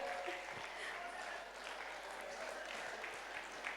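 Steady crowd applause from an audience at a cultural evening dance-drama performance, a dense continuous patter of clapping that holds at an even level for a few seconds, with a faint murmur of voices mixed in.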